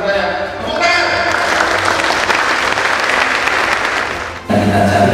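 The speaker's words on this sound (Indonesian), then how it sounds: "saya minta kepada para kepada ASN untuk memberikan aplaus atas kemenangan mereka" Applause breaks out for the winners at a cadre-training gathering, a dense burst of clapping from a large audience that swells and holds steadily for several seconds before cutting off near the end.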